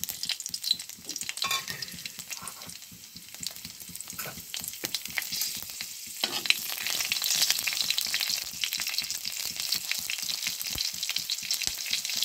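Cumin seeds and a whole green chili crackle and sizzle in hot oil, a steady close frying hiss with scattered sharp pops throughout, growing denser toward the end, with no voices.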